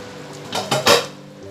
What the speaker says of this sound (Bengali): এবারের ঢাকনাটা আমি ওপেন করব।